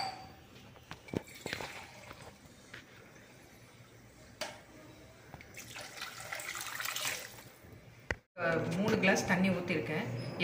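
Water pours from a tap into a cooking pot holding half a glass of lentils for a home-cooked meal, a steady splashing stream that swells over the last couple of seconds after quieter kitchen noises.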